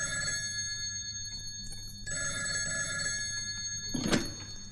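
An old telephone bell rings in a household, two bursts of rapid jangling separated by a pause, moderately close, followed by a clunk as the receiver is picked up.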